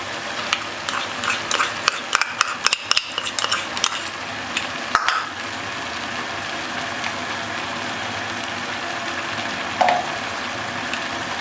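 Carrot halwa roasting in ghee after the milk has cooked down, with a continuous sizzle under a quick run of sharp spoon scrapes and taps against the pot early on, then steadier frying with an occasional clink.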